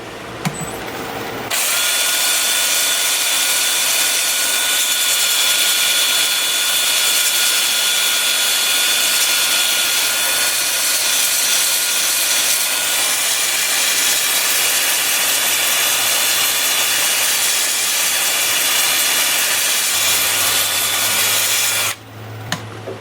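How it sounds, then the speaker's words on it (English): A wood lathe turning in reverse at 320 RPM while a bowl is sanded: a loud, steady whine and rushing hum running continuously for about twenty seconds, starting and stopping abruptly. "I'm going to have the lathe spinning in reverse at 320 RPM"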